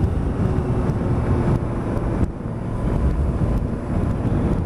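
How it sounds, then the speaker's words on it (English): Honda CBR650F four-cylinder motorcycle engine revving with a steady broadband roar and faint high whine, loud and continuous with a brief dip midway, partly masked by wind rush. "when you get the revs up, you get a little bit of that squeal, that 4-pot squeal."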